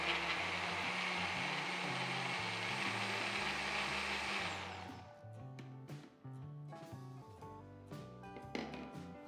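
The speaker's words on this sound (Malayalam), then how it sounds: "ഇത് ആദ്യം ഒന്ന് ബ്ലെൻഡ് ചെയ്തെടുക്കാം" Blender whirring loudly as it blends peanuts, banana and honey for a peanut banana milkshake, a steady high-pitched roar for several seconds that then stops, leaving quieter clatter and knocks.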